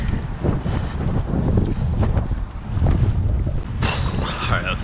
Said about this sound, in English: This wind is just taking me all over the place.